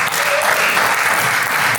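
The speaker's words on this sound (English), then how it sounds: "You can give yourselves a round of applause for that." Dense, steady applause from an audience at the PodFest podcasting expo, loud and continuous throughout with no break.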